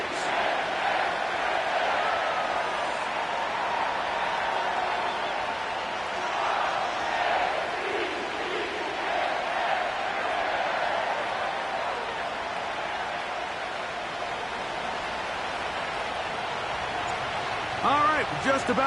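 Stadium crowd at a Ravens home game in an EA Sports football video game, a broad continuous roar with swelling cheers and scattered shouts beneath a commentator's steady talk.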